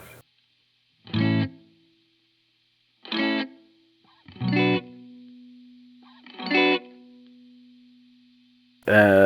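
Safari Pedals Fox Echo Chorus plugin giving a tape-style delay: five short plucked notes spaced a second or two apart, each trailing a thin sustained echo tail, clear and isolated against silence.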